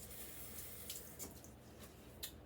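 Water running from a faucet onto a cleaning cloth in a bathroom, a quiet steady stream with a few splashy spikes as the cloth is dampened, no talking.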